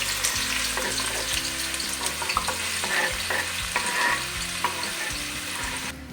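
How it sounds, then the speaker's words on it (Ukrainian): Chopped onion fries in hot oil, a steady bright sizzle with intermittent scrapes and clinks as it is stirred, close and continuous with no talking. "Смажуємо цибульку до зеленого кольору."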